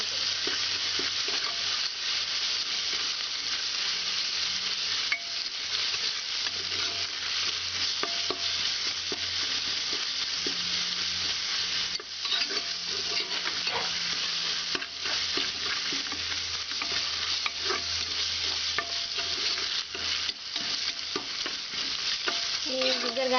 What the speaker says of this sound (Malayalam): ഈ ജിഞ്ചർ ഗാർലിക് പേസ്റ്റ് ഒന്ന് മൂത്ത് വരുന്നതിന് ഇളക്കി കൊടുക്കും